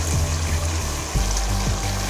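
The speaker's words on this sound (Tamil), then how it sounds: "சிக்கன் வேகிறதுக்காக கொஞ்சம் 2 டம்ளர் அளவு தண்ணி ஊற்றி" Water pours into a pan of sautéed salted chicken for Pallipalayam-style uppukari, a steady close splashing trickle with a few sloshing surges over low kitchen rumble, no talking.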